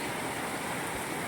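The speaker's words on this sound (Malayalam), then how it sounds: "അതിശക്തമായുള്ള കാറ്റും മഴയുമാണ്" Heavy rain with strong wind at a flooded coastal road in Vaipur, a dense continuous wash of hissing noise, steady and unbroken over a brief moment.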